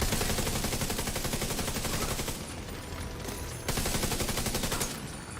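An SMG fires in The Division 2, with rapid continuous automatic bursts close and loud, a brief dip in the middle before the firing resumes.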